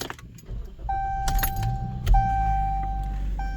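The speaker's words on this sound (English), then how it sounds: "turn on the car" A Jeep Cherokee starting up: keys jingle, then a steady chime sounds, followed by the engine catching and settling into a low idle inside the cabin.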